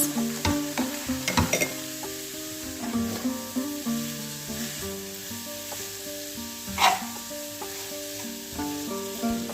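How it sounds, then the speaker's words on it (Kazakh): Vegetables and garlic sizzle and crackle steadily in a hot pan, with occasional stirring scrapes, while soft background music plays throughout. "Оның үстінен сарымсағымызды салып, тағы 1 рет қуырамыз."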